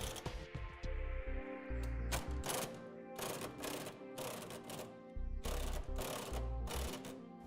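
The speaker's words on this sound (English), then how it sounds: "tighten down the 3/4 inch bolts that hold the side plates to the frame" A tool drives home the 3/4 inch bolts holding fifth wheel hitch side plates to the frame of a 2004 Ford F-350 Super Duty, heard as loud bursts of rapid mechanical rattling and whirring with short gaps between, close up.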